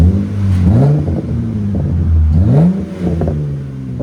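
A RAM 3.6L V6 fitted with a Vibrant bottle resonator muffler gives a deep, loud exhaust rumble close by, rising in two quick revs over its idle.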